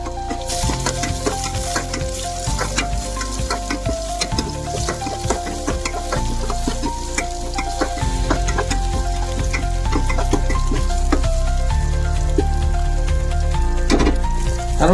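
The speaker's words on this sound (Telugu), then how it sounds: "కొద్దిగా బ్రౌన్నెస్ వచ్చే వరకు వేయించుకోవాలి ఫ్రెండ్స్" Masala fries in a pan until slightly browned for Warangal-style mirmikal curry, a loud, continuous crackling sizzle with stirring scrapes and a steady tonal hum underneath, with no speech.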